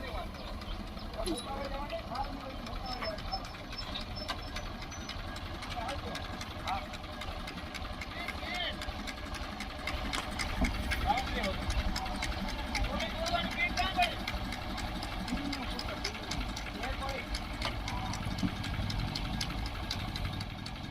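A tractor engine idles steadily nearby in a village, its low, continuous rumble running throughout while voices talk over it.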